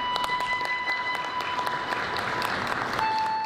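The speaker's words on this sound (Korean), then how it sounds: "박수로 맞이해 주십시오." An audience applauds to welcome a calligraphy performer onto the stage, a fairly quiet, even patter of many hands with steady electronic tones humming underneath the whole time.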